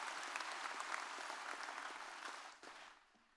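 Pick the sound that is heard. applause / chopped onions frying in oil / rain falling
applause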